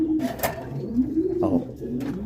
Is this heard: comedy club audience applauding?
no